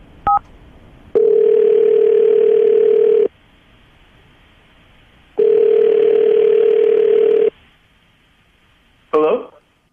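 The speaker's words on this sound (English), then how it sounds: "I'm going to dial his phone number right now, get him on the phone" A telephone line tone sounds after a quick dialing beep, coming as two long steady tones of about two seconds each separated by silence, followed by a brief voice at the end.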